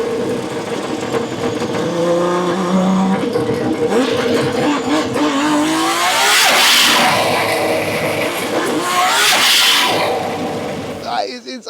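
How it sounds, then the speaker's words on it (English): A tuned, turbocharged 1JZ engine revs repeatedly to 10,000 RPM, climbing to sharp high-pitched screams in two or three big bursts, loud and close with a rough idle between pulls. "The other party trick about this is how high it revs. Yeah, this revs 10 grand."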